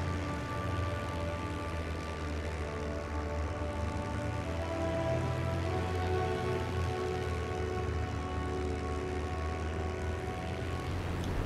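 The P-51B Mustang's piston engine drones in IL-2 Great Battles with a steady, unbroken propeller roar that holds a constant level from start to end, with no voices over it.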